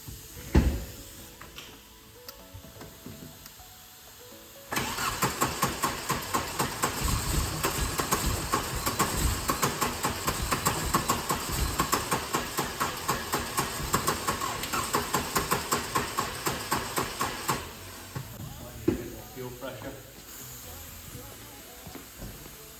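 A Volkswagen Corrado G60 with 65k miles cranks and fires after a quiet start, then runs with a loud, rhythmic pulsing and hiss before the engine note drops away near the end.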